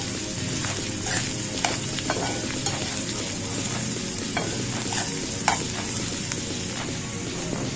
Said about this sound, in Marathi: आता चांगला लाल होईपर्यंत परतून घेऊया।